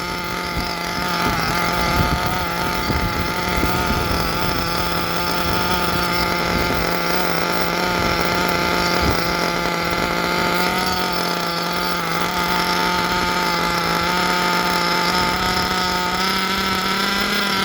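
A nitro model engine idles during break-in, a loud, steady, high-pitched whine with strong even harmonics that holds without a break from start to finish.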